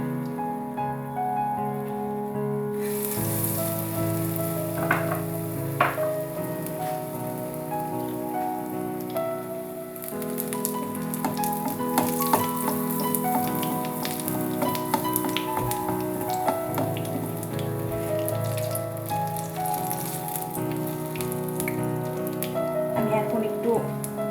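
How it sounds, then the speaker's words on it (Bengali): Eggplant slices deep-fry in a generous amount of oil, a dense, loud, continuous sizzle like heavy rain that swells after a few seconds and holds steady throughout. "আপনারা একটা একটা করেও ভাজতে পারেন অনেক বেশি তেল নিয়ে"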